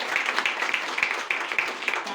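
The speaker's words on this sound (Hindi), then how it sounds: "एक जबरदस्त ताली डायमंड रैंक के लिए।" An indoor audience at a business presentation applauds, a moderate, steady patter of many hands clapping with irregular sharper claps throughout.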